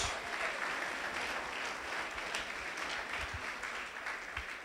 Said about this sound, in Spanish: Alguien que aplaude al nombre de Jesús